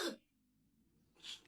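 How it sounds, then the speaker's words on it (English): A child gives two short, harsh barking coughs, the first loud and the second a bit softer, with a quiet pause between them. "Got the sea lion cough."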